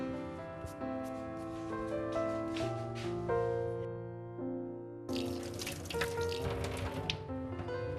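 Tap water runs into a sink while someone washes their face, a close, steady stream with splashing and dripping that briefly thins, then resumes fuller and more broken by hand movements.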